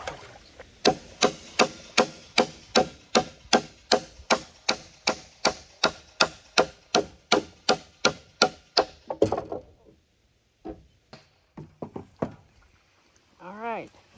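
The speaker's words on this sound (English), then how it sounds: "With that hammer, we're going to have to bend that a little." A hammer strikes a metal bracket on a dock about two dozen times in a steady, quick rhythm, each blow sharp and close. Then come a few scattered knocks and handling sounds, with a brief voice at the end.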